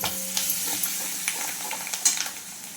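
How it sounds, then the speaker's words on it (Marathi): Oil with thecha green chili paste and curry leaves frying in a home kitchen pan for kadhi, giving a steady close sizzle with a few light scrapes and clinks of stirring. "तर बघा इकडे तेल आणि ठेचा टाकून घेतलेलं आहे"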